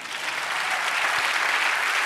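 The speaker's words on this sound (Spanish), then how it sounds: "Dale un aplauso al Señor." Church congregation applauding during a Spanish-language sermon, a steady, dense wash of many hands clapping at even loudness throughout, with no voices over it.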